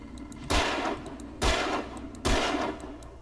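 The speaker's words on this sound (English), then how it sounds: "it's perfectly okay for me to waste a little bit blasting down a tower of cans" Three loud, close gun blasts from the video game Alan Wake, each followed by a brief rattling decay, spaced about a second apart as a tower of cans is shot down, with no voices.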